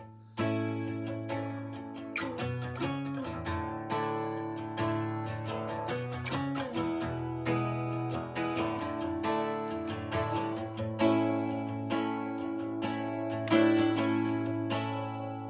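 An acoustic guitar strums a steady rhythm through the chorus chord progression of a song, with chords changing every few beats, close and clear with no voices.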